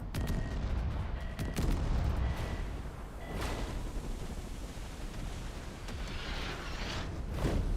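Gunfire in a naval battle video game, heard as a series of broad booming shots at irregular intervals over a constant roar of background noise, fairly distant and muffled.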